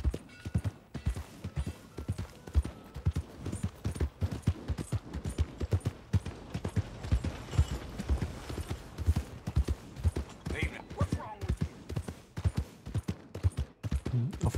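Horse hooves gallop steadily in Red Dead Redemption 2, a loud, close, rapid rhythmic pounding that continues without a break, with no talking over it.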